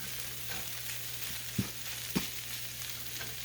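Corned beef hash cooks in a pan on medium-low heat with a steady, soft frying hiss and two brief clicks partway through.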